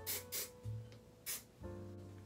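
Freeze hairspray is sprayed onto styled hair in a short series of quick, hissing bursts, with a rattling handling noise between them and no voices.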